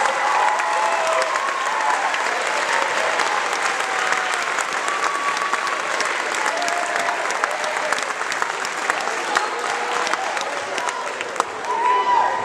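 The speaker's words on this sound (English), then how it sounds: "applause for all of our performers" Sustained applause from a large audience at a middle school performance, steady dense clapping throughout with a faint murmur of crowd noise underneath.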